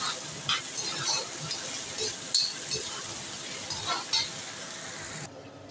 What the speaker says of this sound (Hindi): साथ में हरी मिर्च भी डाल देते हैं। सबको फ्राई करते हैं।